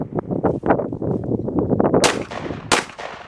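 Gunshots fired from a kneeling position during ground-fighting practice, two sharp, loud cracks about half a second apart near the end, preceded by rustling and scuffing movement close by.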